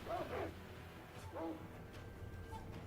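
A dog in the Sekiro video game barks and yips through a wall, three short faint calls spaced over a few seconds against a low game ambience, with no talking over them.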